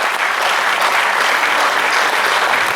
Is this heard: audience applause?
yes